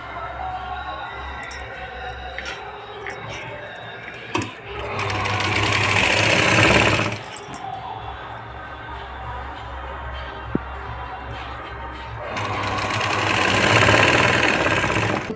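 A sewing machine stitches a puff sleeve in fast, even bursts, close and loud, with louder runs of stitching separated by quieter pauses and no talk.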